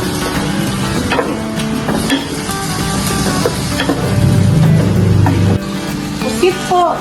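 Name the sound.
shrimp being cooked in a pan for seafood kare-kare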